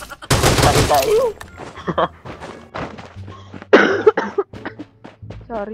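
A person gives a sharp burst of coughing near the start, followed by scattered thumps and short voiced sounds during casual conversation.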